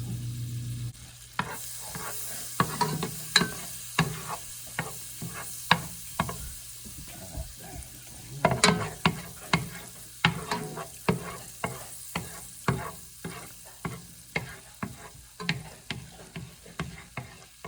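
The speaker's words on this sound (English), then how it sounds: "I already have my pan hot, and we're going to melt some butter." Butter melts in a hot pan at the start of a risotto, a quiet background sizzle punctuated by regular sharp taps and scrapes of a utensil against the pan.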